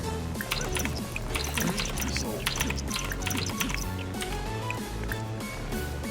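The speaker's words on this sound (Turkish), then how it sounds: "Haydi herkes çikolata şelalesine." A chocolate fountain flows in The Sims 4 as a busy, steady stream of dripping and pouring liquid game effects, with soft voices mixed in.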